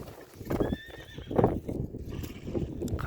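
A young Karabair–Russian crossbred horse lets out a close, loud whinny while its hooves clip-clop in a quick trotting rhythm throughout.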